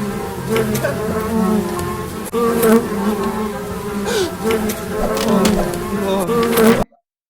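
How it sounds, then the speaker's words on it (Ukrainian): Flies or bees buzz steadily and loudly up close, a continuous droning hum with shifting pitch throughout, ending abruptly. "Це типа його мухи чи то бджоли кусають"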